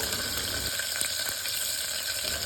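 Small onions and chopped onions fry in a pan for potato curry served with puri, making a loud, dense, continuous sizzle with faint stirring clicks, close and steady throughout.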